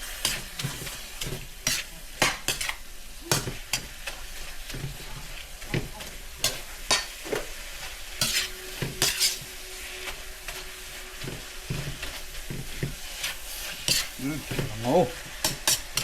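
Food being stirred in a pan, a soft sizzle underneath frequent sharp clinks and scrapes of a utensil against the metal, irregular and close, with no talking.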